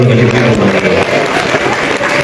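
Applause from a congregation during an Easter church service in Tembagapura, a steady dense clapping filling the whole stretch, loud and close with some crowd murmur mixed in.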